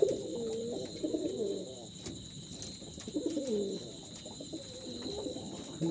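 Soft, repeated coos of Jalali pigeons kept in baskets rise and fall in low murmuring phrases over a steady high background hum, fairly close and continuous throughout.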